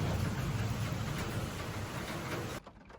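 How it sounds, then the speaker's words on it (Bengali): Steady rain falls as a dense, even hiss close by, continuing without change and then cutting off sharply near the end, with no voices. "এখনো বৃষ্টি পড়ে যাচ্ছে।"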